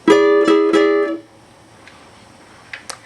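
Three quick strummed electric guitar chords from a song intro ring out close and clear, then fade to near silence with a couple of faint clicks at the end.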